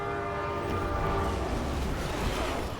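A train in Resident Evil 6 sounds a loud, sustained horn blast over the rumble and rattle of moving rail cars, the horn fading as the clattering wheels carry on.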